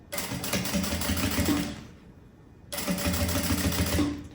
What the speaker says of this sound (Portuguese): E faço aquela costura pra assentar.